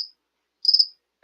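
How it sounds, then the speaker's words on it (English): Cricket chirps heard through a phone: a brief trill at the start, a clear chirp in the middle and another starting at the end, thin and isolated against silence. "The crickets, they're taking over my phone."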